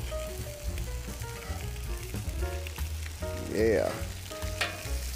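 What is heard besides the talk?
vegetables frying on a Camp Chef griddle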